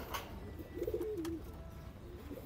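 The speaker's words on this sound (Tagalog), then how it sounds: "At pakain muna tayo dito ng mga stock bird natin na breeder." Breeder stock pigeons in a loft, heard during feeding time, give a soft low cooing phrase amid faint rustling and ambient noise, fairly quiet and close.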